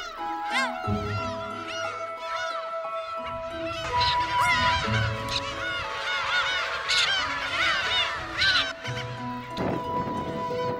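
Harsh, repeated black-tailed gull calls overlap with thin, high-pitched chick chirps, a busy chorus of adult and young birds calling close by.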